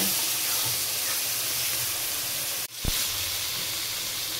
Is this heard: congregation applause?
no